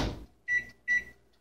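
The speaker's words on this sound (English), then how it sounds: "microwave for 45 seconds" A kitchen microwave oven starts up: two short, bright electronic beeps sound close and fairly quiet after a brief clunk of the door or controls, with no speech.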